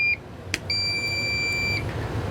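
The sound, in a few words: awning remote beeping when switched on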